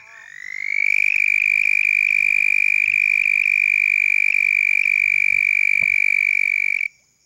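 Red-spotted toads call at a park pond in Agua Caliente Park, giving one long, steady high trill that lasts about six seconds. It is loud and close and cuts off abruptly.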